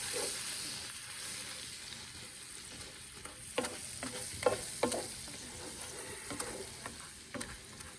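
A spatula stirs flour into a sizzling Cajun sauce for chicken sauce piquante, a steady frying hiss broken by several distinct scraping clicks against the pan toward the middle, moderately close with no talk.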